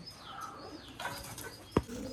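Domestic pigeons kept in a cage coo softly at close range. Near the end a single sharp, loud burst, like wings flapping, stands out.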